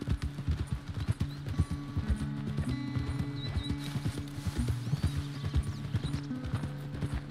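Horse hooves clip-clop in Red Dead Redemption 2 in a steady walking rhythm, near and distinct, over a low game ambience and music.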